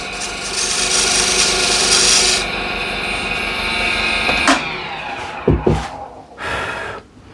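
Close, loud scraping of a refiner scraper drawn across a wood surface, a sustained gritty rasp over a few seconds followed by several short strokes and a final pull.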